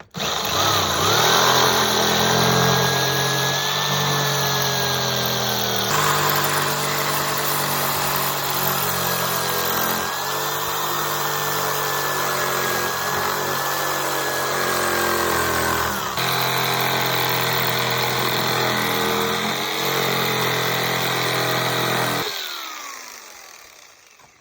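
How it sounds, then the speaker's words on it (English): A cheap corded jigsaw saws through scrap wood with a loud, steady buzzing motor whine that shifts in pitch as the cut progresses, running continuously for over twenty seconds before winding down at the end. "All right, I got my jigsaw."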